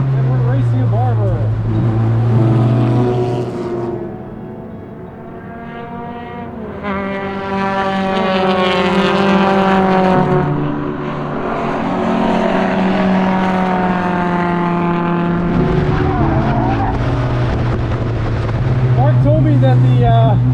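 A Toyota MR2 race car fitted with a swapped 2AR engine drives hard around a racetrack, its loud engine note climbing and falling repeatedly through the revs as it works through gears and corners.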